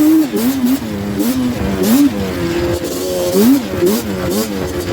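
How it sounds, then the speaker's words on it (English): A Banshee engine revs hard through the snow, rising and falling whines that climb toward redline in repeated loud, close bursts. "As I redline my Banshee through the snow."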